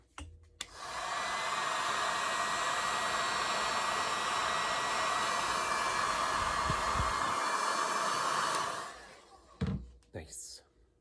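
A heat gun blows a steady, loud whooshing whine for about eight seconds while it shrinks heat shrink tubing over soldered switch contacts. It then winds down, followed by a few clunks of handling.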